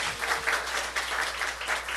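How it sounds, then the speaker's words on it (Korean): A church congregation applauds during a Sunday sermon, a steady wash of many hands clapping at moderate distance, fairly even in level throughout with no voices on top. "힘 주실 하나님께 박수 올려드려요"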